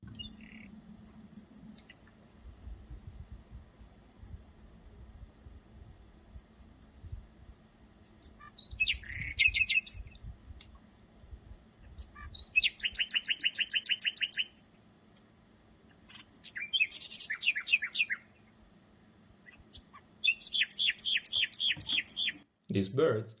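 Wild nightingales sing in four bright, warbling bursts of varied song phrases, each a few seconds long with short pauses between, heard outdoors over a low steady background rumble.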